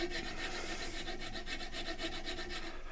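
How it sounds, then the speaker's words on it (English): A coping saw is drawn back and forth on a wrecked knife in quick, even rasping strokes, about a dozen in three seconds, close up and fairly quiet. "I believe it's called a coping saw"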